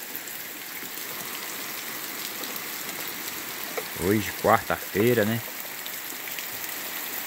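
Steady rain falls with a soft, even hiss throughout in the backcountry of Bahia, Brazil, and a person speaks briefly in the middle over it.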